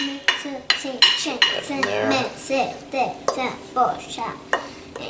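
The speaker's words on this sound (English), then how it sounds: "I'm gonna just scrape the bowl so we don't lose all that good stuff" Salsa being scraped and mixed in a bowl: repeated sharp scrapes and clinks of a utensil against the bowl in an uneven rhythm, close and fairly loud.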